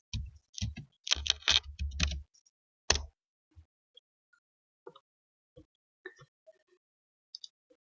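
Computer keyboard typing, a quick cluster of close, crisp key clicks for about two seconds, then a few sparse isolated taps trailing off into quiet.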